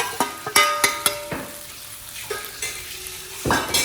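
Ground shrimp is stirred into a frying mixture in a pan, with a quick run of sharp spoon scrapes and clacks over a light sizzle, then a fresh burst of frying toward the end.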